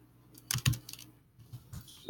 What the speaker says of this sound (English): I'm going to type in the countries I'm going to have kids respond to.